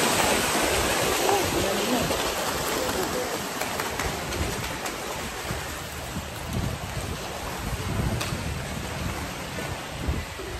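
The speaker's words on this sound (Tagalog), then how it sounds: "itong river na to is ito yung Sopraya River" The Chao Phraya River rushes in a broad, steady wash of flowing water, loud and continuous with wind buffeting the microphone throughout.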